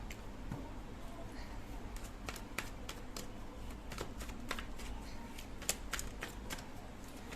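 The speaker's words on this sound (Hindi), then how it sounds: "तो सबसे पहले हम आपके लिए कार्ड निकालेंगे।" Tarot cards being shuffled and drawn, a run of soft, crisp riffles and light snaps repeating at an uneven pace, close and quiet against a low background hum.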